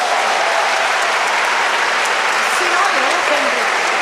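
Loud, dense applause from the audience at a school Christmas concert, a continuous wash of clapping, with a faint voice speaking underneath toward the end.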